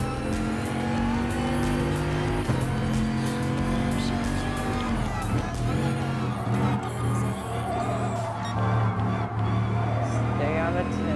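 Race car engines roar and rev continuously in Gran Turismo Sport, with Renault Sport cars among them, whining through gear changes at close range while a voice talks over the action.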